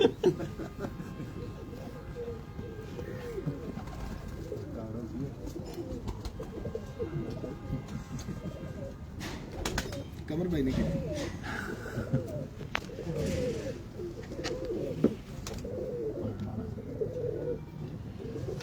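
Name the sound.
pigeons cooing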